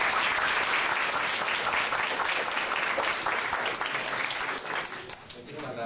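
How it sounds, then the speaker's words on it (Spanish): A school audience applauds steadily at a textbook handover event, dense sustained clapping that tapers slightly toward the end. "Un aplauso para todos."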